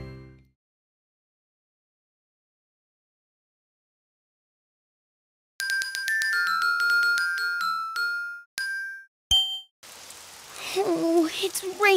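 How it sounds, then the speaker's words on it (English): Rain sound effect in a Daniel Tiger children's video game, heard as a patter of rain after a long silence and bright chiming game tones, ending on a dense wash of falling drops. "It's raining outside."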